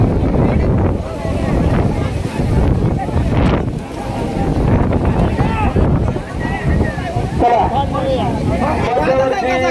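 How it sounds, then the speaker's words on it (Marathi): Strong wind roars in gusts across an outdoor spot, buffeting the microphone loudly and almost without a break, with a voice speaking over it. "कारण जोरदार हवा सुटलेली आहे"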